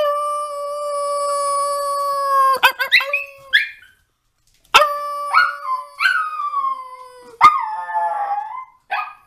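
A dog howls in long, steady drawn-out notes, then breaks into a run of sharp yips and barks with rising whines, close and loud, with no talking.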